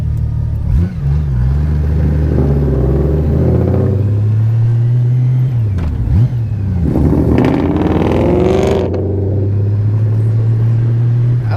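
A modified car engine revs loudly and close, a deep steady idle rising into several sharp throttle blips and roaring pulls before settling back to a rumbling idle.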